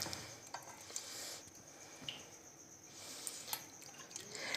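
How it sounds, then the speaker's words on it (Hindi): Soaked tamarind water is strained for imli chutney, quiet wet sloshing and dripping with soft scraping as the pulp is pressed, faint and close. "अब इसे छानते हैं पानी को। चलिए अब पानी को छानना स्टार्ट करते हैं।"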